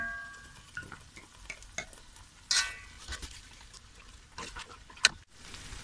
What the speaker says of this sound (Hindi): आप देख सकते हैं मसाला हम भून रहे हैं